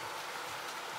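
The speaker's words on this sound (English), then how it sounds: "it just bam, it started raining like crazy" A sudden heavy downpour hisses steadily over an outdoor parking spot, a dense, even wash of rain with no voices.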